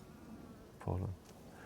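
A honey bee buzzes briefly near a hive during beekeeping, a short close drone swelling for about a quarter second against quiet background.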